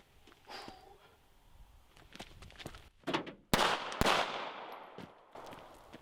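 Rifle shots fired at targets ring out as sharp cracks, two loud ones close together near the middle, the second carrying a longer echoing tail, with scattered handling and shuffling noises before and between them.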